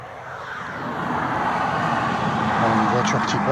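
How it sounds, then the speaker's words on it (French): A car passes on a nearby national road beside a forest, a broad, steady rush that swells gently and holds loud to the end, with faint voices mixed in. "Une voiture qui passe."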